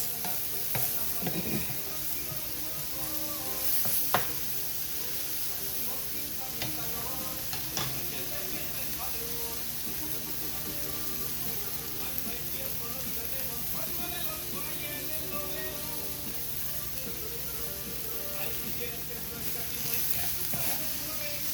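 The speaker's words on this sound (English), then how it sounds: "I love the smell of grilled onions." Sliced onions grilling for a carne asada torta, with a steady low sizzle and crackle running throughout, moderately close, broken by a few brief clicks and utensil taps; no voices clearly audible.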